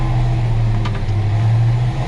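A 1978 Ford F-100 pickup with a 292 V8 drives along, its engine holding a steady low, even drone close by, with no voices over it.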